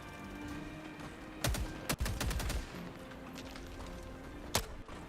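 Video game gunfire in a cooperative shooter, with several bursts of rapid shots cracking over a steady background hum, including a dense automatic volley near the middle and a single loud shot near the end.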